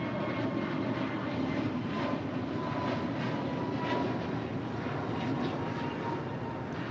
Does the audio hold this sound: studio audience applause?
no